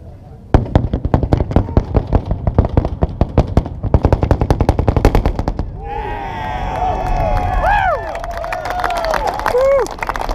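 A volley of Henry lever-action rifles fires at a 1,000-man shoot: a dense, loud crackle of many overlapping shots for several seconds, then the firing stops and a crowd cheers and whistles.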